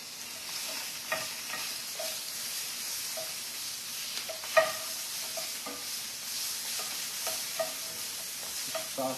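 Sausage fries in a pan, a steady close sizzle with occasional scraping stirs and small pops, no voices over it.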